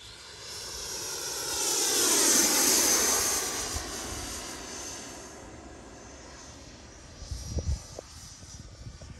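A Freewing F-16 v2 90mm RC ducted-fan jet on its maiden flight whooshes past the runway, its whine swelling to a peak and then fading into the distance, with a few brief gusts of wind noise afterward.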